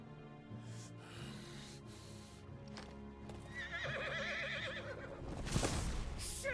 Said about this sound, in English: It's a flying horse.